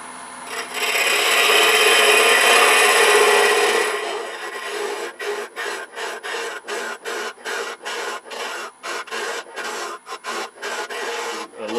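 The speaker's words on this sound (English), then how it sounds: "I'm just going to hollow out the center here" Turning tool hollowing the center of a small wooden hollow form on a lathe, a steady loud scraping hiss that breaks into a rapid rhythmic series of short cuts.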